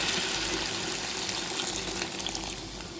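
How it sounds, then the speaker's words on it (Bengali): Hot water pours steadily into a pan of duck egg and okra curry, a continuous gushing splash that stays loud and close for the whole stretch, with no talking. "এ পর্যায়ে গরম জলটা আমি দিয়ে দিচ্ছি"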